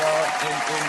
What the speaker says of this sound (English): let the audience give us their little round of applause